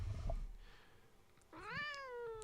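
Pet cat Maisie gives one long, clear, drawn-out meow that rises and then falls. It comes after a quieter stretch with a soft low thump at the start.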